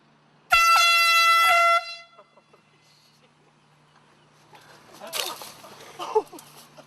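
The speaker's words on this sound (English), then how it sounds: "When people tee off, when they're coming down with their swing, we're going to blow these air horns" A single loud, blaring air horn blast lasting about a second on a golf course during a tee shot, followed by scattered clattering and muffled voices reacting nearby.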